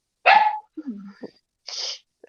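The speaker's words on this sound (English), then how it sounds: "Sorry, my puppy's getting mad." A puppy gives a sharp, loud bark followed by a few softer yips and snorts, close by and indoors during a conversation.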